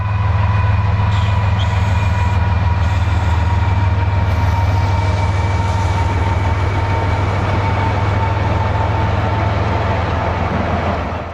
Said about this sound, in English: Southbound from Chattanooga, Tennessee to Attala, Alabama, Southern Railway Heritage Unit number 8099 is on the point.